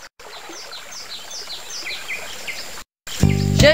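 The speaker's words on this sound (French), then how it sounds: "Il faut que je trouve un moyen de traverser ce ruisseau" A stream flows and babbles steadily beside chirping birds in the PC adventure game Grégoire et la montgolfière, a continuous bright wash that cuts off before a short musical burst at the end.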